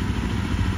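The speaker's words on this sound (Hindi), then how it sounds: "भाई, बिल्कुल स्टार्ट हो रही है, आरपीएम भी ठीक है" A Jawa 42 Bobber motorcycle engine runs at a steady, close idle with an even low rumble and no voices.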